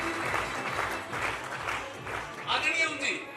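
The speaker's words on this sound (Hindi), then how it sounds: "ओम जी के लिए जोरदार तालियां" Applause from an audience at a government senior secondary school's annual honours ceremony, steady broadband clapping that swells toward the end, with a voice briefly heard over it.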